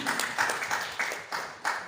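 Applause at a medical laboratory professionals' lab week gathering, a modest scattered clapping with a few louder bursts recurring over two seconds, fairly quiet and moderately close.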